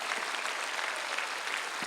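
Outdoor prayer rally crowd at a Seoul plaza breaking into broad, dense applause, steady and distant-sounding, a continuous wash of many hands with no talk over it.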